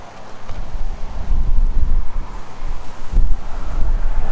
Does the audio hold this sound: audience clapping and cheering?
no